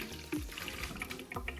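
Heating oil from a boiler or furnace filter pours into a small bucket, a brief, quiet splashing trickle of liquid with a couple of gurgling drops.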